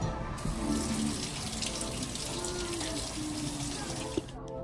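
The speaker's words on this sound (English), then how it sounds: "Now you can wash your hands." Tap water runs steadily into a sink while hands are washed, a continuous close splashing hiss throughout with no break.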